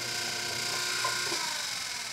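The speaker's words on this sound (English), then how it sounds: "Sorry for the noise of the motor of my kick wheel." Electric motor of a pottery kick wheel running at speed while a heart-shaped bowl is trimmed with a Giffin Grip and flex sliders; a steady mechanical whir and hum holds evenly throughout, with no talking.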